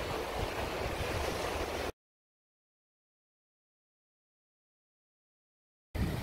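Sea surf rolls in at Lido beach, Venice, toward evening, as a steady rushing wash of waves with some wind that cuts out to silence for a few seconds before returning.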